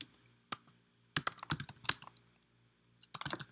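Keys clatter on a computer keyboard in a short burst of quick, uneven taps, with pauses between clusters, close and fairly quiet against a soft background.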